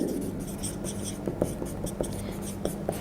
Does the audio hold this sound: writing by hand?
yes